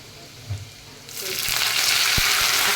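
Cumin, garlic and curry leaves hit hot oil for a dal tadka, starting quiet with a faint thump, then bursting into a loud, steady sizzle that fills the rest of the moment, with a couple of soft knocks.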